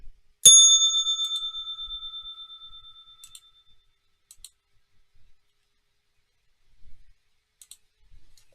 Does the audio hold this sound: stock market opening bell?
yes